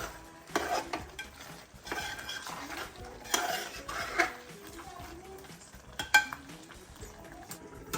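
Chicken curry with coconut pieces cooks in a pot, with irregular stirring, scraping and clinks of a utensil against the pot over a soft bubbling sizzle.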